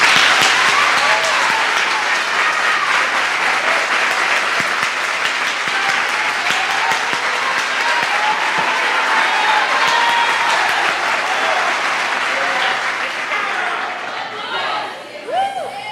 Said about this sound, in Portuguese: Bora aplaudir Jesus?